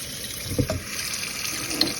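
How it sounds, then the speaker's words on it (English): Steady broadband rush of water pouring from a tap, continuous and fairly close, with a couple of small splashes and clunks. "Let's get some water going."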